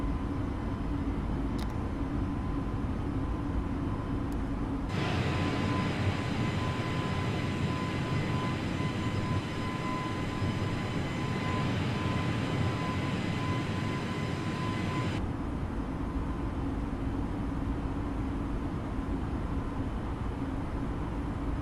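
Airliner engines roaring during takeoff and climb in Microsoft Flight Simulator on a flight from Puebla to Puerto Vallarta, a steady loud drone with a louder, fuller middle stretch of about ten seconds, no talk.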